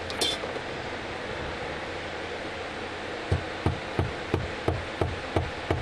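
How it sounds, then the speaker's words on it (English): A hammer taps an arrow nock onto its shaft with the arrow set on the ground, about eight sharp, close, regular knocks following a quiet stretch with a brief rustle at the start. "We'll just set it on the ground and finish tapping it on."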